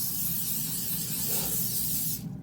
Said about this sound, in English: you just want to spray these with a cooking spray